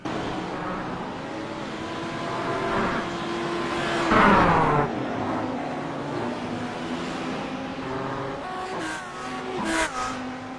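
A race car drives around a track, its engine droning loudly and steadily, swelling to a louder pass in the middle with changing pitch, then easing back under continued engine noise.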